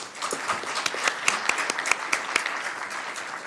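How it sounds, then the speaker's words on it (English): Applause from an audience at a Sacramento city council meeting honoring a physician, dense steady clapping with a few sharper claps standing out, moderately loud and continuous throughout. "Let's give him a big round of applause."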